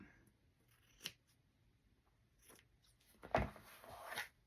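Scissors trimming the fabric edge of a handmade custom mousepad, a few quiet, close snips separated by pauses, ending in a longer cutting stroke.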